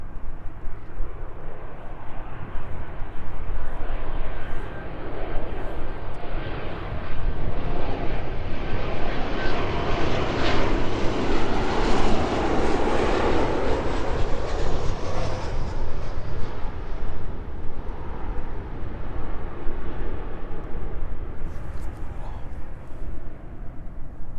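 Airliner on final approach touching down on runway 09 at East Midlands Airport, a steady roaring jet engine rumble that swells and then fades, heard from a distance outdoors with no talking.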